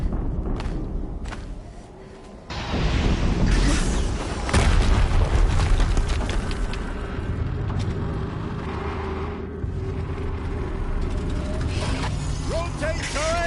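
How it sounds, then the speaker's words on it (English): A deep, booming explosion in the video game Horizon Zero Dawn rumbles in after a quieter stretch, heavy and loud, followed by sustained low mechanical roar and clanking. "Explosion."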